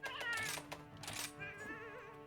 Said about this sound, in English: This sounds like a cat.